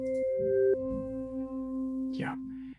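A sustained ambient synth sample called Boat Vibes played in Omnisphere 3, a low drone with a tone that shifts once, then a brief rising sweep near the end, quiet and alone.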